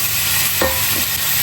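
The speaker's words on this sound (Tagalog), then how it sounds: "Fry natin yung chicken, ayan." Chicken and carrots frying and being stirred in a pan, a steady close sizzle with one brief scrape of stirring partway through.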